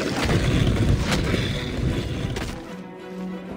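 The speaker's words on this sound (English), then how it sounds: "Oh, another wind current." Wind current in Genshin Impact rushing with a steady loud whoosh and low rumble that fades out near the end, with no talk.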